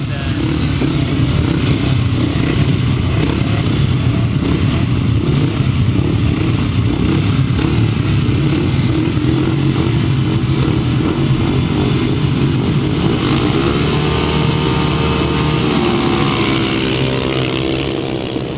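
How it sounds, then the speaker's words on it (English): Grasstrack racing motorcycles lined up at a race start, a dense, loud, steady roar of several engines idling and revving together throughout. "On the line in for race number 37, the start of the third leg of the Etherington Harland Cook"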